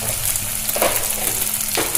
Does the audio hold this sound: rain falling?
no